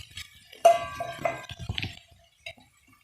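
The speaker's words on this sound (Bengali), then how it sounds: "এবার আমি এর মধ্যে দিয়ে দেবো ভেজে রাখা আলুগুলো।" Fried potatoes are added to a chicken curry and stirred, making a few sharp metallic clinks and scrapes of a spoon against the pot, loudest early on, then sparse and quiet.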